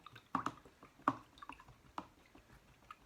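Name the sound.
paintbrush being rinsed in dirty water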